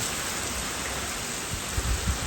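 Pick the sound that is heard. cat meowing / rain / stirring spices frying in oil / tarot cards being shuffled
rain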